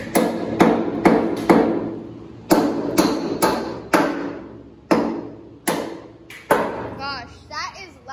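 Loose screws swept across a workshop floor while a utility/ATV trailer is repaired: a series of loud, sharp metallic clatters at irregular intervals, each ringing briefly, with faint chirping sounds at the end.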